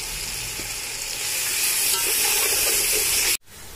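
Mutton biryani masala sautéing in a pan with yogurt and turmeric, a steady loud sizzle and hiss close by that runs throughout, then cuts off abruptly near the end.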